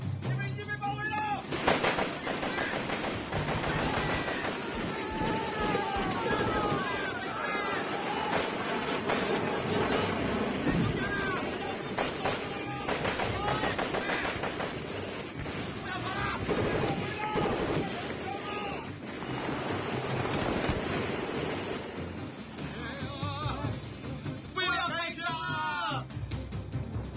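Gunfire rings out in a police shootout scene from a Hong Kong action comedy film, with sharp shots scattered among shouting voices, running commotion and dramatic background sound.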